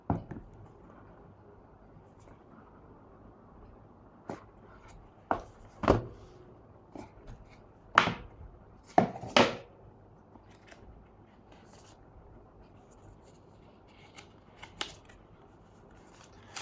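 Opening the box of an Oppo Reno13 smartphone: scattered close-up rustles, scrapes and sharp cardboard and plastic handling clicks with quiet gaps between them, no talking.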